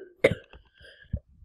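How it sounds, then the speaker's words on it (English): A child coughs in a short fit: one sharp, close burst followed by a couple of smaller hacks and a final cough, with quiet gaps between them. "Sorry, I had a little coughing fit"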